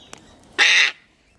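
A wild cockatoo lets out a single harsh, raspy screech lasting about a third of a second, loud and close, after a quiet lead-in with a faint click.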